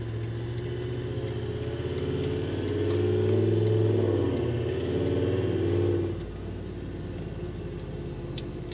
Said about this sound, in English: you can hear the engine revs